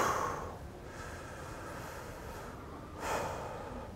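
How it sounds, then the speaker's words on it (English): Slow, deep breathing in a forest setting: a long inhale and exhale, soft and close, with a faint airy hiss between breaths. "And also just deep breathing, deep breathing."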